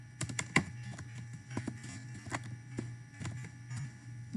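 Someone types on a computer keyboard nearby, a quick uneven run of light key clicks and taps over a faint background hum.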